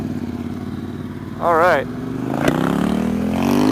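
A Ducati XDiavel motorcycle revs hard during an accidental wheelie, its deep engine rumble running beneath people talking and swelling louder toward the end.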